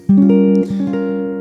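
A single strummed half-diminished guitar chord rings out clearly, its notes sustaining and slowly fading with a slight second strum partway through.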